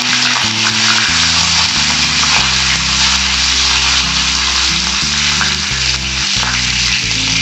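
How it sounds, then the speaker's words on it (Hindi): Loud, continuous sizzle of cumin seeds and curry leaves hitting hot oil, crackling hard right up close, with a low droning hum underneath. "जीरे को तड़काने के बाद में हम इसमें डालेंगे कड़ी पत्ते।"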